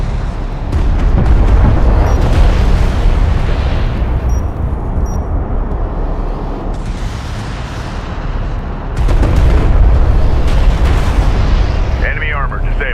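Deep rumbling explosions from the real-time strategy game Homeworld: Deserts of Kharak, heavy low booms rolling in loud waves with brief lulls, while radio-style unit voices talk over the combat.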